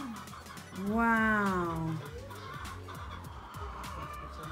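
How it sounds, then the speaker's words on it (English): Roosters and chickens in a park enclosure cluck and call in short bursts, one drawn-out crow-like cry rising loud near the start, with a voice briefly exclaiming over the birds. "Mira, los gallos. Rooster, okay."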